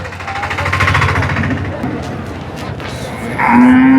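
Calves and cattle moo loudly at the Theppanthal cattle market in Tiruvannamalai district, Tamil Nadu, with long low bellows near the microphone, market voices behind them, and a higher calf call near the end.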